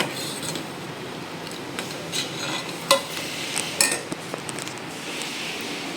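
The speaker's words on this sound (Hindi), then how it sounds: "अब पहले इसको भूजेंगे, भिंडी भूज लेंगे, उसके बाद दाल को भूनेंगे।" Okra, then dal, being stir-fried in a home kitchen pan, with a utensil scraping and clinking against the metal over a soft steady sizzle, and a few sharper knocks near the middle.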